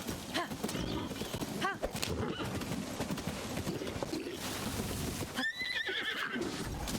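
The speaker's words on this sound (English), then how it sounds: "A horse!" A horse in the video game Tears of the Kingdom, with repeated hoof clip-clops and a whinny close by. Someone speaks intermittently over it.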